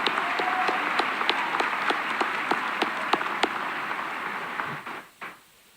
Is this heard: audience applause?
yes